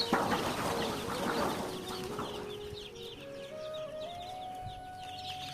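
A brood of one-day-old tiger chicken chicks cheeps busily, with dense, high, overlapping peeps close by and a steady background hum.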